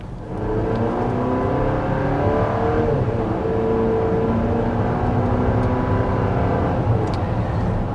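A 2024 Chevy Traverse RS three-row SUV in sport mode, its engine droning steadily from inside the cabin as it accelerates, a continuous loud hum with layered tonal whine and no talking.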